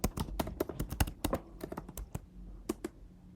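Rapid typing on a computer keyboard as a terminal command for an OpenVPN connection is entered, a quick irregular run of crisp close key clicks with short pauses, no voices.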